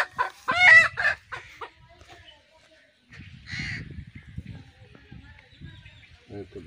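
A desi hen being caught for slaughter clucks and squawks in loud bursts at the start and again midway, with people talking around it.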